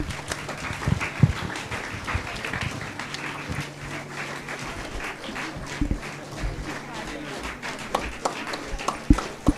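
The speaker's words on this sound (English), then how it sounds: "Parents, can you please continue your applause?" Parents applaud at a school concluding function in an auditorium, with uneven, moderate clapping mixed with shuffling, footsteps and a few thumps, and faint voices murmuring underneath.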